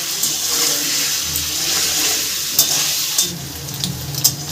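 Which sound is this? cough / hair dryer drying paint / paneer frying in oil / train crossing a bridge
paneer frying in oil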